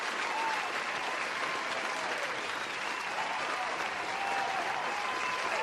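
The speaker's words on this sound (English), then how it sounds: "Yay, I have clapping sounds." A dense wash of applause and clapping plays steadily throughout at even loudness, with no voices over it.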